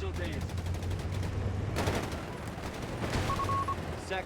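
Rapid machine gun bursts from a German MG42-style Gewehr team in Company of Heroes 3, sustained crackling fire with louder volleys swelling midway amid battlefield noise.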